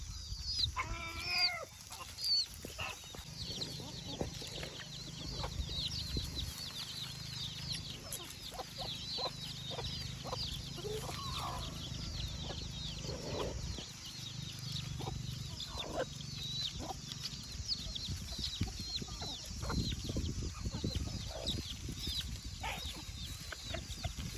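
Mother hens clucking softly and repeatedly close by, with scattered chick peeps and scratching over a steady background hiss.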